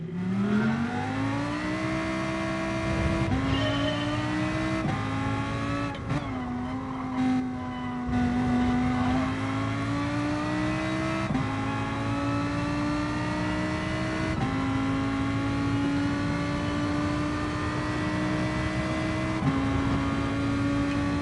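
A race car engine in Gran Turismo Sport drones steadily near and loud, its pitch rising through the gears and dipping briefly at shifts, then climbing smoothly again over a sustained run.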